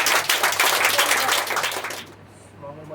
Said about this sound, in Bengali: আমরা সকলে হাতের তালির সাহায্যে